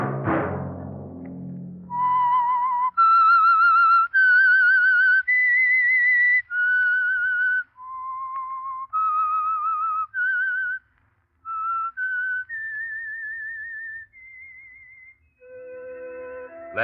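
A lone whistler carries a slow, eerie melody of sustained pure notes as a radio theme for the Signal Oil program's mystery show, each phrase clean and close, with brief pauses between notes and no talk.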